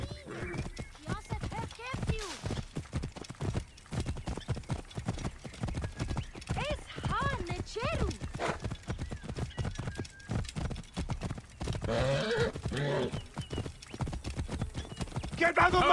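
Horses galloping in a race in Assassin's Creed Origins, their rapid hoofbeats pounding steadily beneath repeated neighs and whinnies while voices shout over the commotion.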